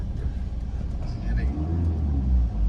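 A car with a manual gearbox pulls away in first gear, its engine rumbling low and steady and rising slightly in the second half, close and continuous.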